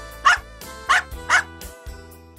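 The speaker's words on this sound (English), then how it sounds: "Dog." A dog gives three sharp barks in quick, even succession, loud and close, followed by a short quiet tail with no voices.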